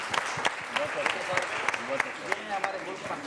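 Studio audience clapping in a live television show, a steady wash of applause with sharp accents, heard under loud overlapping speech.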